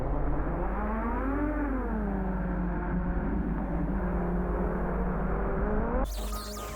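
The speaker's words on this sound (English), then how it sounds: "it is time to blip the throttle again and reverse yourself back down the tree" FPV quadcopter drone motors whining loudly as the throttle is blipped to reverse back down a tree, with a steady droning buzz whose pitch sweeps up and down before cutting off abruptly near the end.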